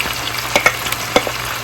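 Spinach sizzling and frying in a pan, a close crackling hiss with a few sharp pops and stirring clicks scattered through it.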